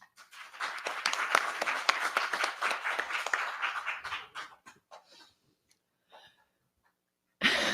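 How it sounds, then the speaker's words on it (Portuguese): Scattered clapping from a small group at a book launch rattles on for about four seconds, then trails off into a few faint claps and near silence before a sudden noise at the end. "Ele continua te aplaudindo."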